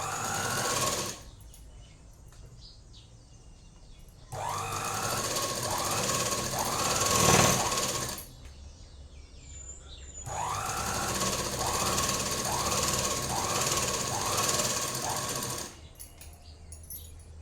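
A sewing machine stitches a chudidhar top, running in two long, loud, steady bursts of rapid needle hammering after a brief opening run, with quiet pauses between.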